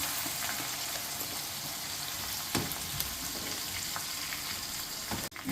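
Mustard seeds, four dried chillies and crushed garlic crackle and sizzle in hot oil for tomato pickle, a continuous close frying hiss with a few pops and scrapes, no voices.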